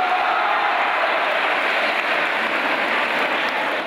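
Continuous, dense applause fills a church as a statue of the patron Virgin is carried in at the end of a romeria pilgrimage, a steady roar of many hands clapping with no breaks.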